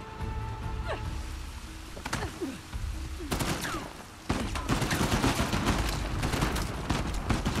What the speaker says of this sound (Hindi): गोलियां पड़ रही हैं